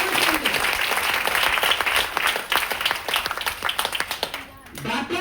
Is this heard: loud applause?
yes